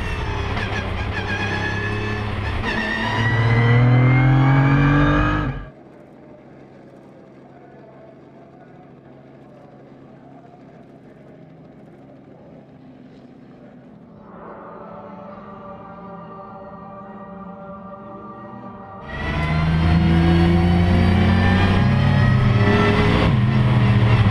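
GT race cars at the rolling start of the 24H Barcelona endurance race, loud engines roaring close by, then dropping to a low distant drone before climbing back to a loud, near roar.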